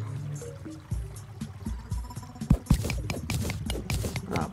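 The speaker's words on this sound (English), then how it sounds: "And slowly but surely, water's being drained out." Water draining and pouring in the Terraria video game, a busy splashing, trickling wash with scattered sharp knocks and clicks, steady and fairly loud with no talk.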